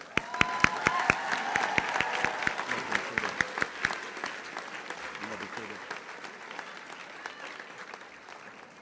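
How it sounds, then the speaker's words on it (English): Graduation ceremony applause for Pocola Indians graduates, a dense crowd clapping with scattered cheers and voices underneath, strongest early and slowly tapering off. "Let's give our graduates another round of applause."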